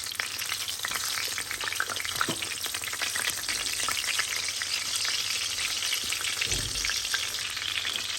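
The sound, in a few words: chicken schnitzels frying in a pan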